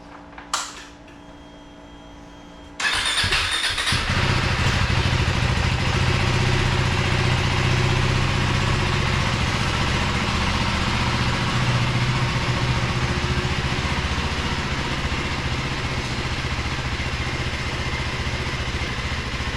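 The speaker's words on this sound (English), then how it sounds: "I'm gonna just let it warm up here outside." A 2025 KTM 390 Adventure R single-cylinder engine idles steadily outdoors in the rain to warm up, starting after a brief quiet moment and then holding a loud, constant rumble with rain hiss throughout.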